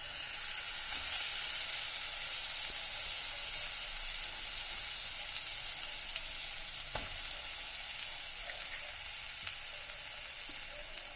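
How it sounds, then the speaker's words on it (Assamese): Butter sizzles and fries in a hot kadai at the start of a prawn recipe, a steady, close hiss that holds evenly and softens slightly partway through, with no talking. "কেৰাহীখন গৰম হ'ল এতিয়া মই বাটাৰ দি দিছো"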